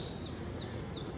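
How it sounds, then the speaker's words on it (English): Faint birds chirping in the distance, a few thin high calls over a low outdoor rumble. "Hopefully you hear the birds singing around."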